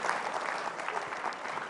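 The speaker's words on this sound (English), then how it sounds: "Clap, man." An audience claps in a steady, dense burst of applause, heard from a moderate distance without pauses.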